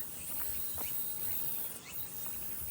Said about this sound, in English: I don't know if those are cicadas or not that I'm hearing.